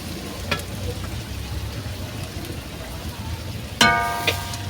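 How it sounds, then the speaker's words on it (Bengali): About 200 grams of garlic frying for a chicken dish in a pot on a clay stove: a steady, close sizzle hisses throughout, with a sharp stir or clatter near the end. "দিয়ে ভাজবো, আরও 15 মিনিটের মতো ভাজবো।"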